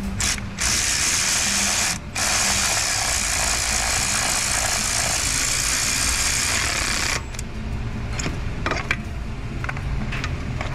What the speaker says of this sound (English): I'm gonna go ahead and get these guys uh, tightened down right now